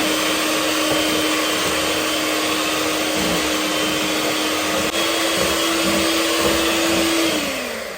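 Electric mixer running at low speed through cake batter with flour for a cinnamon pie, a loud steady motor whine with constant pitch that drops slightly as it slows near the end.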